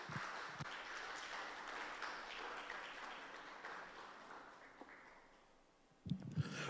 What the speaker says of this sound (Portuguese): dê uma poderosa salva de palmas a Jesus